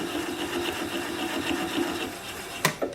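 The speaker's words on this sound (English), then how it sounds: "I'm going to apply the bevel of the gouge against the bottom of the bowl" A wood lathe gouge, bevel riding against the bottom of a spinning bowl, hums and rasps steadily as it cuts through, followed by two sharp knocks near the end, close up with no talking.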